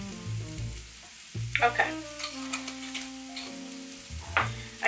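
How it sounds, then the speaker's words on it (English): Fideo noodles and spices are stirred in a hot pan, producing a light sizzle with scattered scraping stirs, and a voice says a single word. "I'm just getting this all stirred around to kind of wake up the spices"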